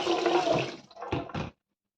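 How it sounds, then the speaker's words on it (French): Soaked legumes rinsed under running water, a close splashing gush with brief bursts of pouring before it cuts off abruptly, no talk. "Donc, je jette l'eau de trempage. Je les rince vite fait."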